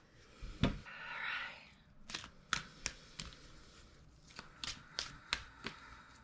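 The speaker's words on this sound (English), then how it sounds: "I will shuffle and pull a card from this deck" A deck of crystal cards being shuffled, heard as a soft riffling burst followed by a series of crisp, evenly spaced taps and snaps, close and fairly quiet, with no talking.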